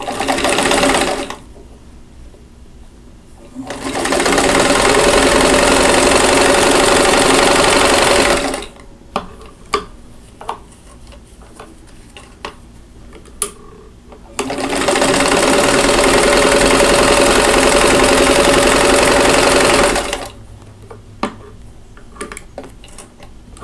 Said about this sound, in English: I'm going to stitch 1/4 inch away from the drawn line on both sides.